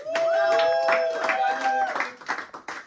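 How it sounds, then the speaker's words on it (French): An audience at an Easter Monday group discussion claps in a quick rhythmic beat while several voices whoop and call out over it, loud and close. "On applaudit le modérateur."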